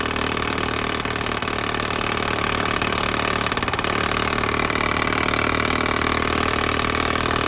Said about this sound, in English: some kind of tractor engine. Some sort of like poppy two-stroke diesel or something?